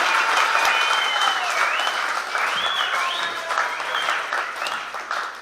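Audience at a Congolese partnership ceremony applauds loudly and continuously with whistles and cheering, a dense sustained wash of clapping lasting the whole stretch.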